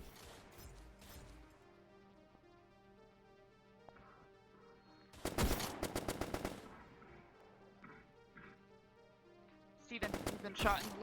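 Bursts of automatic gunfire in a Neon Divide roleplay scene, one rapid volley near the middle and another near the end, loud and sharp against a quiet ambient background with faint voices.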